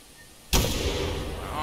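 A single rifle shot aimed at a pheasant in the hunting game TheHunter Classic, set in Hirschfelden, with a sharp close crack followed by a long, loud rumbling echo that rolls out across the landscape.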